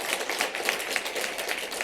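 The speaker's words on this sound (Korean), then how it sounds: "박수로 격려하겠습니다." A church congregation applauding, rapid overlapping hand claps in a steady patter, moderately loud and close, no voices.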